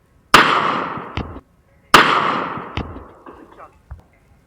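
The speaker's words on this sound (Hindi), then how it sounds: "वो अपने हाथों में पिस्टल लेता है और हवाई फायरिंग कर रहा है।" A pistol fired into the air, two sharp loud cracks about a second and a half apart, each trailing off in a long echoing decay, with faint smaller pops between.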